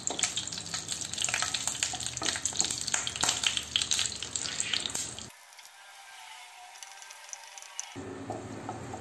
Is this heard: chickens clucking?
no